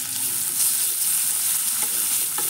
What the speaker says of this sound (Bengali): ওই একই তেলে আমি কুচানো পেঁয়াজটা দিয়ে নেব